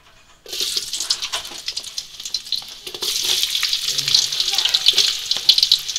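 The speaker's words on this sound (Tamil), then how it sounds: "உருளைக்கிழங்க போட்டு பொறிக்க விடுறோம்." Potato pieces frying in hot oil in a home kitchen pan, a steady loud sizzle and crackle that starts abruptly as they drop in and grows denser, with no talk over it.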